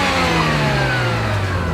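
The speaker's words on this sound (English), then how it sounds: "This week on Test Drive, we take a look at the rotary-powered RX8." A Mazda RX-8's rotary engine revs hard, a loud, close, buzzing drone with its pitch slowly sliding down across a short burst.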